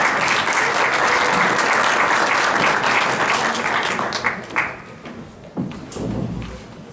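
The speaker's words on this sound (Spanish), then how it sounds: "Les damos un fuerte aplauso." A crowd at a Mexican evangelization gathering applauds three priests just introduced, a loud, full round of clapping that fades out over the last few seconds into scattered claps and low noise.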